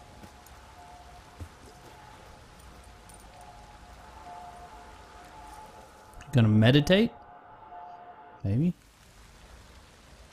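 Steady rain patters in The Witcher 3: Wild Hunt, a soft continuous hiss running under the whole stretch while a voice speaks briefly and louder game sounds cut in near the end.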